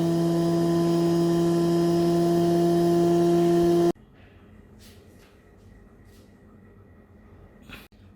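A lab centrifuge spins an empty extraction column at 10,000 RPM, giving a loud, steady whine with strong tonal hum. It cuts off abruptly, leaving quiet room tone and a few faint handling clicks.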